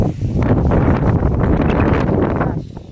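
Strong wind gusts buffeting the microphone outdoors near a vegetable garden in the late afternoon, a loud continuous rumbling roar that fades slightly at the end.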